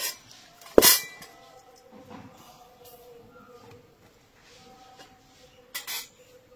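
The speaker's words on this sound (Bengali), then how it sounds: "কড়াইটা বসিয়ে দিচ্ছি।" A metal kadai set down on a home stove, one sharp clattering clink near the start, followed by quiet kitchen background and a brief second metallic knock near the end.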